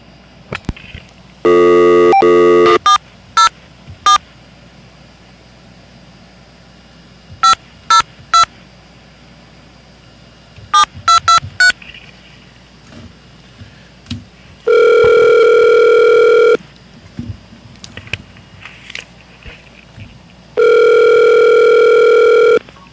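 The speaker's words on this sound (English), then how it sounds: "I can call him on the phone." A landline telephone sounds a steady dial tone, then scattered touch-tone beeps for a number, followed by two long, loud ringback tones separated by quiet gaps.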